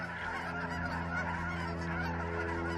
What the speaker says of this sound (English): 4 or 5 greater white-fronted geese in different phases, dark and light, of the snow geese